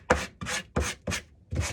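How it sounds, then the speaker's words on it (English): A sanding block rubs back and forth over scraped, painted wood in five even, close strokes, each a coarse, gritty rasp separated by brief gaps, with no voices. "take a sanding block and go over it after I've scraped it, just to remove any of the extra little pieces of paint"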